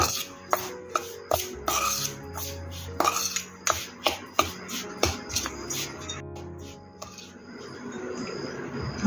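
Chopped raw mango and pickle spices are stirred together in a bowl, producing a quick series of close, sharp scraping and knocking strokes that then give way to softer, steadier rubbing.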